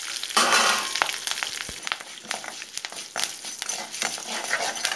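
Urad dal, asafoetida and curry leaves fry in hot oil for mint chutney tempering, a steady close sizzle with crackling pops and occasional spoon stirs against the pan.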